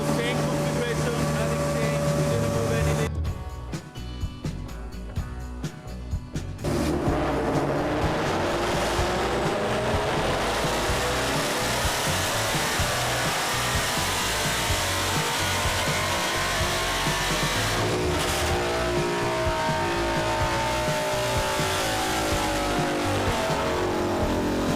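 A 2018-or-later Ford Mustang GT roars through a dyno pull, its engine note climbing steadily and loudly over more than twenty seconds after a brief lull, close and dominant throughout.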